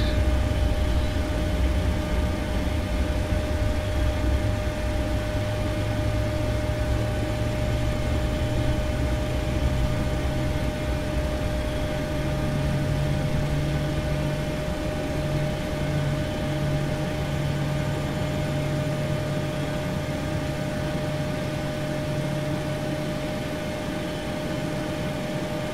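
Steady drone of a PMDG 737 engine spooling up during start in the Prepar3D flight simulator, a continuous broadband whir with a sustained hum and a slowly rising tone, even and unbroken for the whole stretch with no talking.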